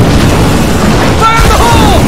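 A thrown explosive detonates in State of Decay 2 with a loud, sustained boom that fills the whole moment, heavy low rumble throughout and a brief crackling burst partway through, with no talk over it.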